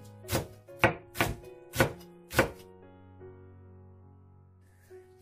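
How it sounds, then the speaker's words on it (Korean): A knife slices butterbur leaves into strips on a cutting board with five evenly spaced, sharp chops, each a crisp thunk, close and clear, followed by a quiet pause. "채 썰어 줍니다"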